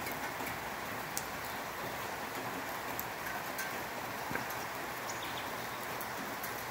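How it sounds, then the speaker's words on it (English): Steady, dense rain falls during a thunderstorm in Boquete, a continuous wash of hiss with no talk. "Still raining."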